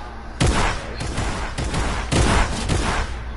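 Rapid gunfire in Fortnite, several loud close bursts of shots in quick succession with short gaps between, no talking over it.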